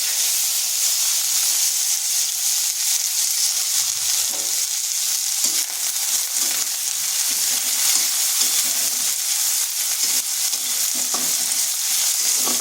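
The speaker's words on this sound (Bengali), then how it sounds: "পেঁয়াজটাকে হালকা একটু ভেজে নিচ্ছি।" Chopped onions frying in a pan after a spice tempering, with a loud continuous sizzle and hiss and the rustle of stirring throughout.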